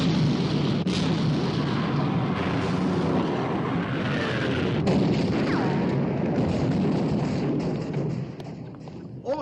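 Naval gunfire in the battle with the Bismarck: a continuous rumbling din of heavy guns and explosions, with several sharp booming impacts standing out through the dense, loud roar.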